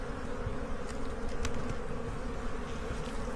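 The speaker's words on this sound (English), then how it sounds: "Lots of pollen coming in. I think this is a busy hive." Honey bees swarm around a busy, freshly opened hive in a backyard apiary, a dense steady buzzing drone that stays close and constant throughout with no speech.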